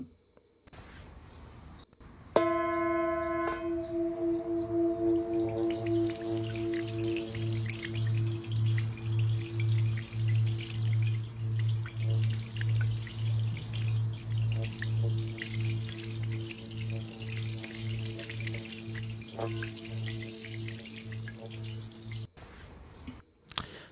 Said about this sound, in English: this video in specific depicts how a sound bowl affects water by the sound that it creates all around it